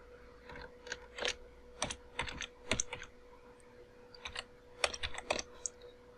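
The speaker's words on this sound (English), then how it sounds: "you'll need to type in the password for the username that you happen to use" A password is typed on a computer keyboard at a login prompt: a quiet, irregular run of sharp key clicks in small bursts with short pauses, close and alone with no talking.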